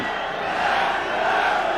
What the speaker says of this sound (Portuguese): a torcida do Vasco faz a festa e grita que é campeão